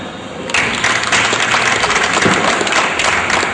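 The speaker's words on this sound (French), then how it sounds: "Je vous prie de vous applaudir vous-même." Sudden burst of crowd applause, many hands clapping loudly and continuously after a brief quiet start.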